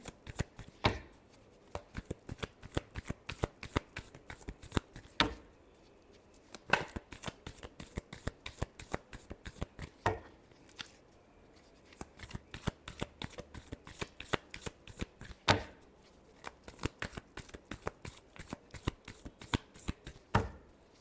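Tarot cards being shuffled by hand in a long run of quick, crisp riffles, with sharp taps at regular intervals, close and fairly quiet, with no voices.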